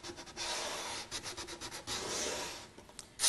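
Sandpaper distressing the edges and joins of a wooden Kmart crate, a soft dry rubbing in short uneven strokes, quiet and close, with no talking.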